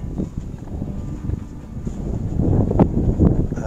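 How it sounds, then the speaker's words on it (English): Wind gusts buffet the microphone at an off-grid solar panel site in Arizona, a steady low rumble that swells louder over the last second or so, with no talking. "Here comes the wind, yay!"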